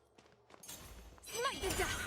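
Horse hooves clip-clop in the video game Genshin Impact, rising out of quiet into a louder, busier stretch of game sound with some tonal calls layered over it.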